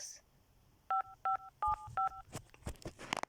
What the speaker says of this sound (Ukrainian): Так, це телефоную подружці ж.